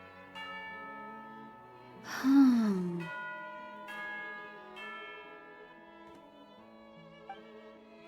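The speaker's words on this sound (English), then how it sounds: "You hear the sound of the bell." A bell rings for tea time in the Genshin Impact video game, with sustained ringing tones and a lingering decay over a soft musical backdrop. A single voice murmurs briefly and someone sighs partway through.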